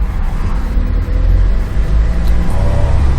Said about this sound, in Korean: 엔진 소리가 조금 달라요